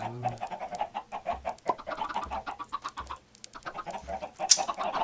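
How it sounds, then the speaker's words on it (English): Chickens in Minecraft clucking in short repeated bursts, several birds close by with a brief pause midway, no talking over them. "I now have so many chickens"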